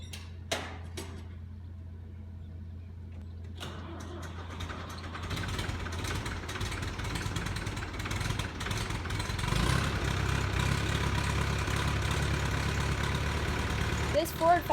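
Engine of a 1967 Ford 5000 tractor on a farm at morning chores, a steady low rumble idling quietly at first, then growing louder and rougher as it revs and works, continuous throughout.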